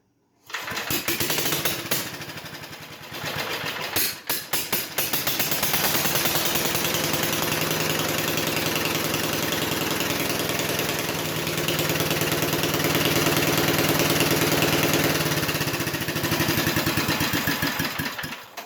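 A vintage Whirlwind lawn mower engine is pulled over and catches. After a few sputters it settles into a loud, steady, close-up running drone that lasts most of the clip.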